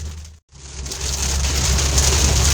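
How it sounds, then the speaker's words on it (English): Heavy rain during a July storm with possible hail pours down as a dense, rising hiss that swells after a brief dropout and keeps building, steady and close. "There comes the heavy rain."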